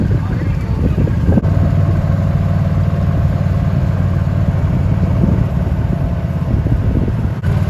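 A vintage tractor at the Half Century of Progress show in Rantoul, Illinois runs with a steady low engine rumble as it drives away, while people talk nearby and wind buffets the microphone.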